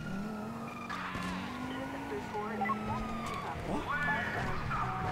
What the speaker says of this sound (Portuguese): Ai, esse som de motor ficou perfeito, meu.